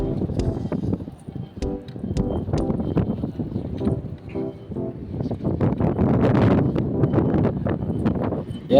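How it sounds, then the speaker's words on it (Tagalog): Strong gusts buffet a microphone beside a water channel where a cast fishing net is being hauled, producing loud, uneven rumbling bursts and flutters throughout. "pasensya na po kayo sa ingay dahil mahangin po dito ngayon"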